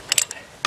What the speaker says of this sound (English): 10mm wrench and loosen up that nut